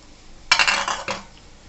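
A lid is lifted off a pot of boiling crab rasam on the stove, giving a short burst of metallic clinks and scrapes that fades quickly, close and fairly loud against a quiet kitchen.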